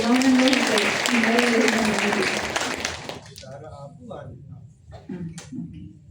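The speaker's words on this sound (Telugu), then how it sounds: "చప్పట్లు పడదాం దయచేసి" A Bible quiz audience bursts into lively applause for about three seconds, with someone talking over it, before the clapping fades and his speech carries on alone.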